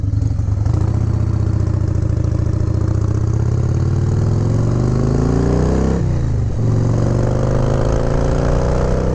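A 1997 Harley-Davidson Dyna FXDS Convertible with Screaming Eagle slip-on mufflers idles loudly and close, with a deep, lumpy rumble, then revs with a smooth rising sweep, dips, and climbs again.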